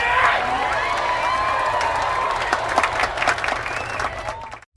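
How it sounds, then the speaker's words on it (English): Applause from a crowd, steady dense clapping with some cheering mixed in, loud and sustained for several seconds before cutting off abruptly. "Can we get like a fake like sarcastic applause button?"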